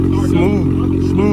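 Straight-piped GT car exhaust rumbling loud and close in a steady deep drone, with someone talking over it.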